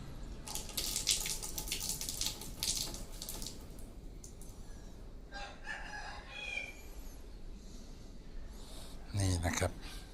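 Water splashes and pours steadily out of a used coin-operated fuel dispenser cabinet while someone talks over it, and a rooster crows in the background.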